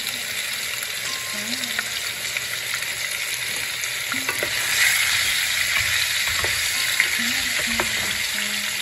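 Chopped onion and garlic with a pinch of asafoetida frying in a pan, a loud continuous close sizzle with occasional spatula scrapes and pops, no talk.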